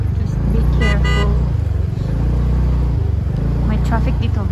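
Road traffic near the Atal Tunnel rumbles loudly and continuously while car horns honk in several short toots, with voices talking over it.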